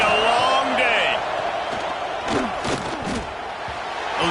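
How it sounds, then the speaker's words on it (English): A Big Ten college football stadium crowd roars at full throat, a dense, loud wall of noise that holds steady throughout with scattered shouts rising above it. "This crowd, full throat, splitting the eardrums and letting him know it's going to be a long day"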